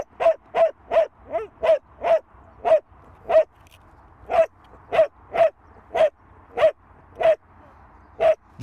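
A dog barks in a steady series of about fifteen sharp, close, fairly loud barks, evenly spaced with brief gaps, alone without talk.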